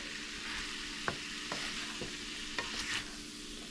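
A burrito bake mixture with Rotel simmers in a pan, giving a soft continuous sizzle broken by a few utensil taps and scrapes.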